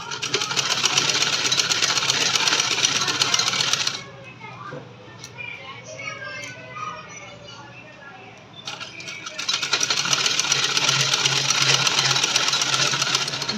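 A sewing machine stitches a salwar seam with half-inch seam allowance, running in a fast close whirring chatter, pausing for a few seconds of fabric handling, then resuming steadily.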